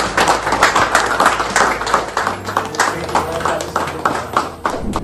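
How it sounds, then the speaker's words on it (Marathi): A crowd applauds loudly at a celebration of a Marathi news channel passing 600k subscribers, a dense rattle of many hands clapping steadily throughout with no pause. "त्या सगळ्यांसाठी जोरदार टाळ्या वाजवून लावूया."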